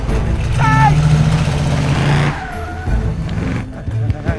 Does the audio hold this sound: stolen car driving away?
yes